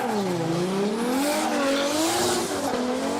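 A Toyota Mark II JZX100 drift car squeals its tires at a Formula Drift Japan event at Okuibuki Motorpark, a loud sustained screech with a wavering engine pitch rising and falling, close and unbroken, no voices.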